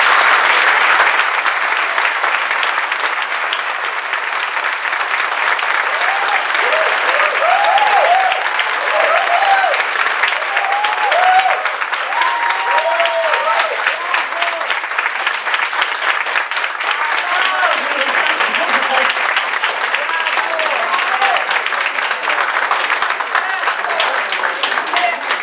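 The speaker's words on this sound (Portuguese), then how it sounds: "não é sempre que eu tenho esse aplauso" Sustained audience applause fills a psychoanalysis conference hall after a talk on psychoanalysis and violence, dense steady clapping lasting about twenty-five seconds with a few voices mixed in.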